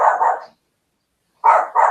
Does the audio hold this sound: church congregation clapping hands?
no